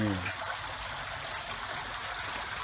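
Steady splashing flow from a man-made garden waterfall at home, a close continuous watery rush, with a short low voice at the very start.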